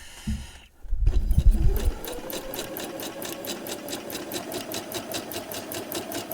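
A sewing machine runs steady bobbin-work stitching back and forth on an appliqué embellishment for an art quilt or hat. A brief low thump comes first, then a long run of quick, regular needle pulses up close.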